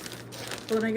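A plastic bag of freshly harvested spinach crinkles close by, followed by a brief voice starting to speak.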